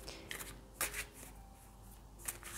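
Tarot cards being shuffled and drawn during a Christmas reading, a few soft, quiet card slides and flicks at scattered moments against a hushed room.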